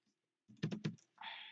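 A brief burst of keyboard typing, a few quick keystrokes close and quiet, followed by a short click-like rustle.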